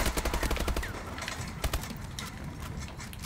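Rapid gunfire in Call of Duty, a dense burst of repeated shots at the start, then scattered blasts and a loud bang amid busy game noise, continuous and close.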